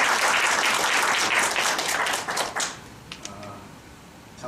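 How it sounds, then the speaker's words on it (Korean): A lecture-hall audience applauds strongly for a visiting professor, dense clapping for over two seconds before trailing off into a few scattered claps. "박수가 약한 것 같습니다. 세게."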